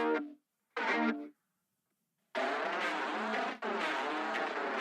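Heavily distorted electric guitar through an HM2-style distortion pedal with a buzzy, mid-heavy tone: two short chugs, a pause, then long sustained saw-toothed chords, loud and close.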